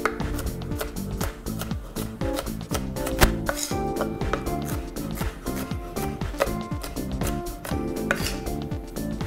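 A knife dices a bell pepper on a cutting board, with rapid, steady chopping taps running throughout at moderate loudness over a busy musical backing, no talking.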